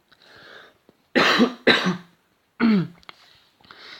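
Several sharp coughs in quick bursts, close and fairly loud, followed by a softer throat-clearing sound.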